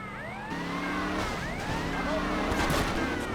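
Several police cars pursue the player in a modded open-world driving game, their sirens wailing in overlapping rising and falling sweeps over steady engine and traffic noise, loud and continuous.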